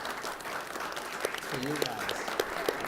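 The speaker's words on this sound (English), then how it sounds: "So let's give them a round of applause." Audience applause at a panel discussion on global energy infrastructure, a steady broadband patter of many hands throughout, with a speaker's voice talking over it partway through.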